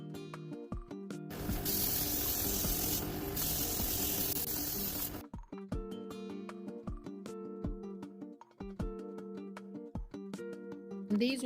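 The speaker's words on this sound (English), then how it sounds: "it got sprayed with some sheen to make it have a frosted look" An edible sheen is sprayed onto a gingerbread house in a steady, fairly loud hiss lasting about four seconds, followed by soft clicks and quiet tapping with background music.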